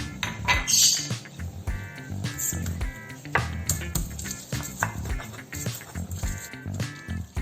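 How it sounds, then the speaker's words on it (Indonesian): Turmeric, shallots, garlic and chili being ground smooth for turmeric fried rice, heard as irregular close knocking, scraping and clinking strokes of a pestle against a mortar. "kita haluskan dulu sebelum digoreng"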